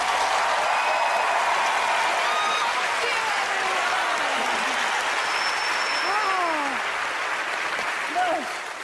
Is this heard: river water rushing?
no